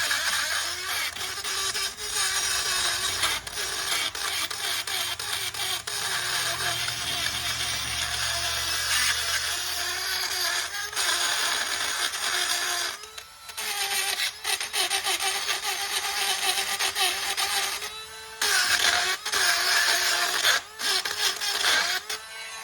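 Abrasive scraping and rasping on rusty rear brake parts of a Kia Soul, continuous and close, with brief pauses between strokes and no talk.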